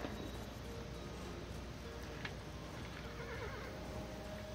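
A horse neighs in the video game Kingdom, a quiet whinny with faint hoof clip-clop over a steady low game background hum.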